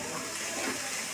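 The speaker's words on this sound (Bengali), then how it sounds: "পানি দিলাম" Water poured into a cooking pot for a village-style desi chicken curry, a soft steady gush, close but quiet.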